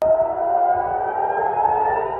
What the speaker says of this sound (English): And when the sirens went off